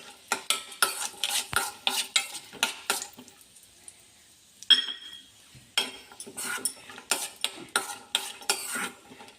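Raisins and cashews frying in ghee in a pan, stirred with a spoon: rapid rhythmic scraping and clinking strokes over a light sizzle, pausing briefly midway before resuming.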